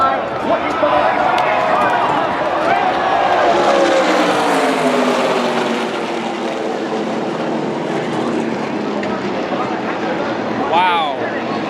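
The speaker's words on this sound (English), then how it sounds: "here's Grant Enfinger stepping out of line, looking for the race." NASCAR race cars at Talladega Superspeedway roar past as a continuous loud, dense engine drone with rising and falling pitch sweeps, heard from the stands; a commentator talks over the noise throughout.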